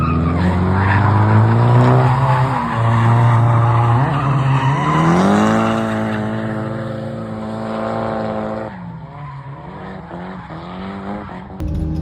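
An overhauled Nissan Silvia drifting on a shakedown run, its tires squealing loudly and steadily over the revving engine, with the pitch rising and then falling as the slide goes on.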